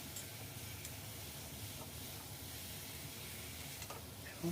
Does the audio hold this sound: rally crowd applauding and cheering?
no